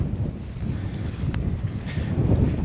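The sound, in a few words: strong wind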